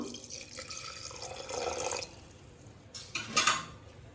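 Water is poured into mutton seasoned with turmeric and salt inside a pressure cooker, a faint splashing and trickling with a few soft clinks, quiet and close.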